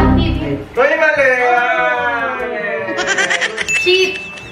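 A drawn-out bleat imitating a sheep, likely a voice, loud and close, with a brief chuckle and other voices around it.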